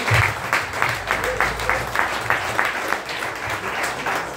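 A church congregation applauds during an evening service, a short run of steady rhythmic clapping, moderately loud, with a low murmur of voices beneath.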